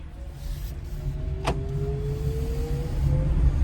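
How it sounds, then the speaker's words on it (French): A thin, steady artificial electronic whine from a Leapmotor T03 electric car, slowly rising in pitch, hums over low road rumble, and a brief sharp click lands partway through. "il y a un petit bruit électrique, hein, artificiel"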